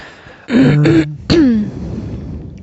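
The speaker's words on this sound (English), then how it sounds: "You're just clearing your throat" A short, harsh throat clearing in two rasping bursts, close and loud, with a quiet pause between them and no talk.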